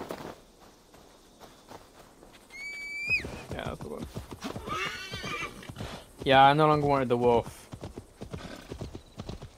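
In Assassin's Creed Valhalla a war horse clip-clops at a walk and gives two loud whinnies, one brief and one longer and closer, while someone talks over the hoofbeats.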